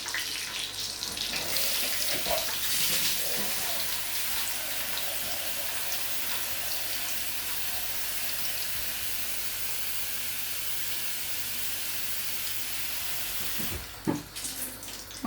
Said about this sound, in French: je vais mettre de l'eau et ça va faire du bruit